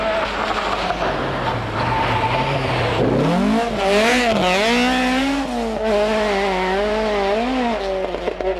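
A two-wheel-drive Opel Manta rally car on a rally stage at the 1992 Townparks Rally. The engine screams close and loud and rises through the gears, with tyre noise and no talk.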